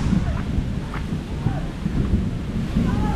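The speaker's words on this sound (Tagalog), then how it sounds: "Ako, umuulan. Nakakulog." Rain falling steadily with low rumbling thunder underneath, a soft continuous wash with a few distant rolls and some wind buffeting.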